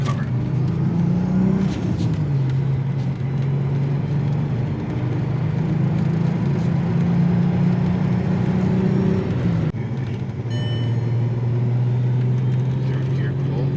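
A built, turbocharged VW MK4 R32 pulls hard in third gear on a cold day, its engine note climbing in a loud, steady drone before a brief dip near the end, then rising again.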